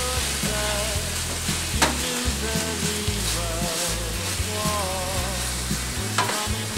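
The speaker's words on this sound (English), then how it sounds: "I saute the kimchi slowly like this is that it begins to caramelize and the taste is a bit more mild" Kimchi sautés slowly in a pan with a steady sizzle, broken by the rhythmic scrape and clack of a utensil stirring the pan, close and fairly loud without voices.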